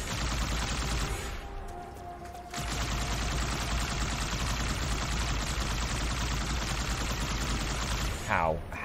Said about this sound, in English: I'm blasting a plasma cannon into him and he's still getting up to his feet.